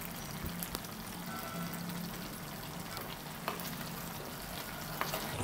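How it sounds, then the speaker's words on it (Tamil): Ground roasted masala frying in a pan for a chicken roast, stirred with a soft continuous sizzle and occasional light scrapes of the spoon, fairly quiet and steady with no voices. "நல்லா கிளறி விட்டுருங்க."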